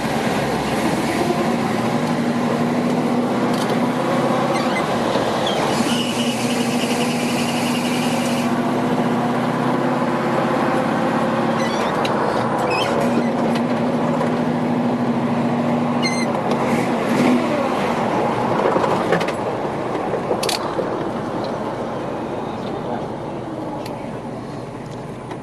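A 1973 Chevrolet Camaro Z28 cruising down the road, its engine droning steadily with constant road and wind noise throughout, loud and close from inside the car.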